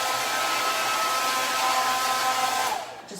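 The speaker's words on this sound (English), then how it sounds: "Just blow drying off all the extra dust." Hair dryer blowing loose sanding dust off a freshly sanded thrift store item before painting, a steady close whooshing roar that holds evenly for about three seconds, then cuts off.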